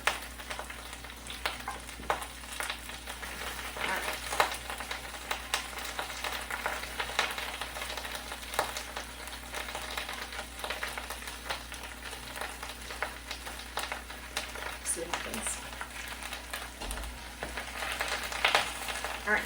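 Bok choy fries and wilts in a crowded pan, a steady close sizzle broken by frequent crackles and pops and the occasional clink of stirring, with no talking.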